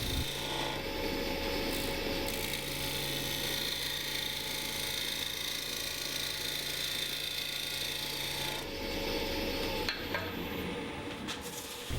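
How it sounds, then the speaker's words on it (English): A bowl gouge rides the bevel and cuts wood spinning on a lathe, producing a continuous rough shearing hiss over the steady motor hum, close and unbroken for the whole pass with no talking. "bring the tool up, ride the bevel, and then slowly bring the handle up until it starts to cut"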